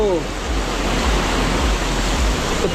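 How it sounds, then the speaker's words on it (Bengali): A dense, steady roar of heavy rain at Mirissa Beach, Sri Lanka, pours down without letup, a thick wash of noise filling the whole moment. "এখন কিন্তু আরো জোরে বৃষ্টি হচ্ছে"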